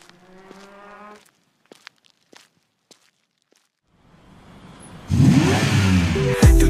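A motorbike engine revs loudly at the start of a ride in Jashore, breaking in abruptly after a stretch of tonal sound and scattered footsteps, then holding close and strong to the end.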